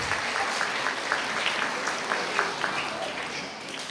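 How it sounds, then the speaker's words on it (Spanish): Crowd applause at a school award ceremony for the Punto Saludable 2012 awards, a dense, sustained patter of clapping with voices mixed in. "Fuertes aplausos."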